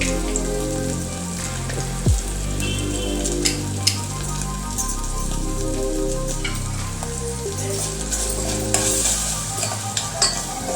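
Onions frying in ghee for cream of spinach soup give a steady sizzle with scattered spatula scrapes, under a loud layered music bed, with no voices.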